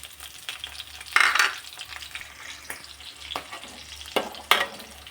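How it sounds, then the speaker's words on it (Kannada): Green chillies fry in a pan for tomato gojju, with a soft continuous sizzle broken by several louder bursts of crackling and stirring scrapes, close by. "ಇದನ್ನು ಸ್ವಲ್ಪ ಹುರ್ಕೊಳ್ಳೋಣ."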